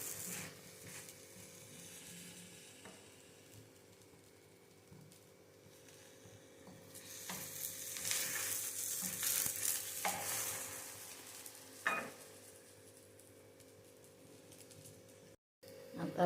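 Beetroot frying in oil in a pan, a low continuous sizzle with occasional utensil scrapes and a clack as pieces are turned, moderately quiet with no talking.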